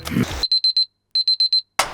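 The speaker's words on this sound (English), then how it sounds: "Wednesday morning, the alarm goes off." An alarm clock goes off on a weekday morning with two bursts of four rapid, shrill electronic beeps separated by a short pause, loud and close, with brief rustling noise before and after.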